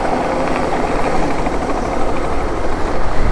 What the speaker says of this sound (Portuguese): Ó o helicóptero aí, galera.